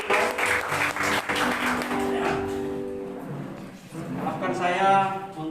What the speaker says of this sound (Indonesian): Beri tepuk tangan yang mulia buat Tuhan